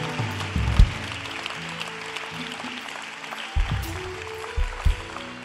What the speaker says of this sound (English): Somebody give the Lord a hand clap.